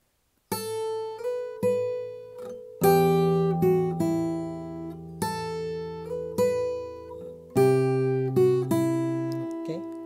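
Plucked acoustic guitar notes ring out in fingerpicked phrases, a low bass note anchoring each group with clear decays between strums, played close and solo.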